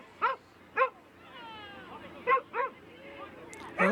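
A Shetland sheepdog barks in sharp, separated bursts, four or five yips spread across a few seconds, amid the crowd babble and background hubbub of a USDAA agility competition at the nationals.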